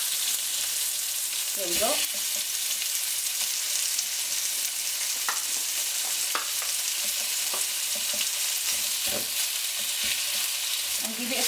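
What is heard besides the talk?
chicken breast frying with tomato in a pan, being stirred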